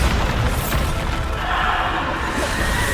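Bombarda explosion spell cast in Hogwarts Legacy: a heavy sustained boom with a roaring, crackling blast that fills the moment, loud and close.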